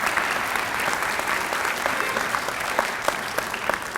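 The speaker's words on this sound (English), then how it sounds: "So give yourselves all a big round of applause." A large commencement audience applauds steadily, a dense sustained wash of many hands clapping in a big hall, loud and even throughout with no break.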